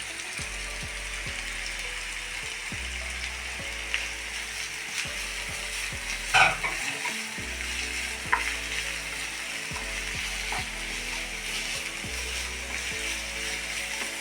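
Grated carrot sautéed in a pan for masala puttu, a steady soft sizzle with occasional stirring clinks, overlaid by a continuous mechanical ratcheting hum in the background, nobody speaking.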